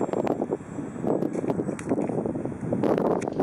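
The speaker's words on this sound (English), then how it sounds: "there is a little bit of wind. Actually, not a little bit. There's a lot of wind" Strong gusting wind buffets the microphone at an RC model airplane flying field, loud, steady rumbling roar with surging gusts throughout.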